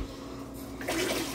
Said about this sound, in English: let me wash this off.